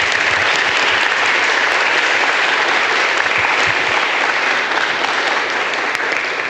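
A conference audience claps steadily in a hall, a dense, even round of applause that stays loud from start to finish.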